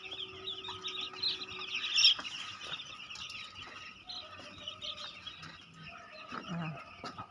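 Thousands of three-day-old baby chicks in a crib-style brooder box, a dense continuous chorus of high peeping and cheeping close by, with no one talking.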